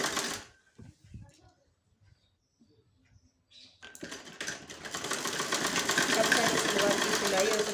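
A sewing machine stitches an Afghani salwar. It starts after a few seconds of quiet rustling and handling, then runs as a steady, fast mechanical whir that grows louder and continues to the end.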